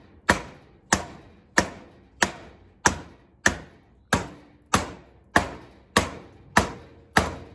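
A cheap decorative sword strikes a wooden board in a steady series of about eleven sharp chopping thuds, evenly spaced roughly every two-thirds of a second, each with a quick fading ring, close and clear with no voices.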